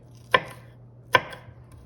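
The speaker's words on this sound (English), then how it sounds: "I'm going to slice the onion across like this." A knife slicing across an onion on a cutting board, two crisp separate chops roughly a second apart, close and clear with no talking.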